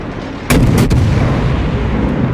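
Heavy warship naval guns fire in the World of Warships video game, a loud booming salvo with a second blast close behind, then a long rumbling roar that fills the rest of the moment.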